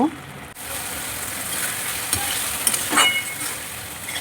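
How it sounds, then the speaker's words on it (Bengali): Ridge gourd and potatoes are stirred and fried in a pan, a steady close sizzle with scraping stir sounds and a few clinks from the utensil. "ঝিঙেগুলো দিয়ে দিলাম ভালো করে নেড়ে একটু কষিয়ে নেব"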